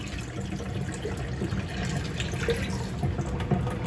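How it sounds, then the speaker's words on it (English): Cooked rice for fried rice drains through a colander as a continuous, soft watery trickle and splash, steady and close for a few seconds. "we're going to take this colander and we're going to strain it"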